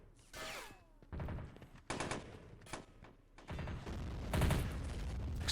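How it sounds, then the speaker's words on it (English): Bursts of rapid gunfire and explosions from a Men of War: Red Rising battle, loud and continuous with repeated volleys. "Explosions, hand grenades are being thrown on the border of Mexico and the United States."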